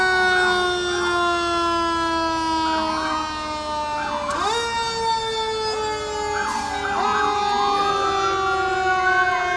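Fire engine sirens from the Attleboro Fire Department roll past in a Memorial Day parade, several loud wailing tones overlapping in near harmony, with sharp horn-like blasts and pitch sweeps breaking in partway through.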